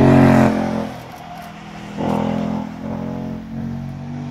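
A drift car's engine on a test run without drifting, rumbling loudly then settling to idle before revving up again in a couple of swells, heard alone and nearby.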